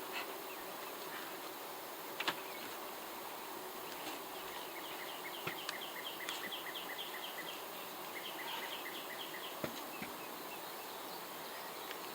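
Honey bees buzzing around a hive, a faint continuous drone with occasional louder passes of individual bees and a few soft knocks, quiet outdoors with no talking.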